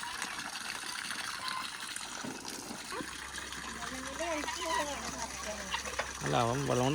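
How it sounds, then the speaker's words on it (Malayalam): A pump pushes water into a tank for ducks, making a steady gushing flow with a low hum, under people talking nearby. "അപ്പോൾ ഇനി നമുക്കിതിലേക്ക് ടാങ്കിൽ വെള്ളം അടിച്ച് കയറ്റാം."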